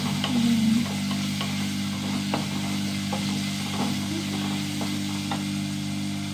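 Curry leaves sautéing in tamarind water, a faint steady simmering sizzle with occasional light taps of a spoon over a constant low hum.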